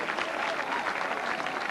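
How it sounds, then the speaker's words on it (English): Crowd applause at a 1990 indoor bowls final, a steady wash of clapping that holds at an even level throughout the short stretch, with no talk over it. "And the crowd reacting here."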